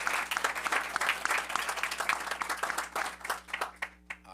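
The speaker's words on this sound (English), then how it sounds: "But let's give them a round of applause." Students at a school board of education meeting receive a sustained round of applause from the audience. Dense clapping runs steadily for several seconds and then thins out near the end.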